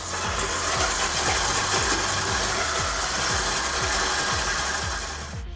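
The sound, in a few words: electric mixer beating butter and sugar for cake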